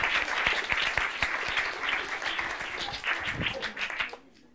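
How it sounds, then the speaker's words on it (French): An audience at an improvised children's storytelling show claps warmly, a lively crackle of hands with a few sharper claps standing out, before the applause cuts off and leaves near silence. "on peut l'applaudir très très fort"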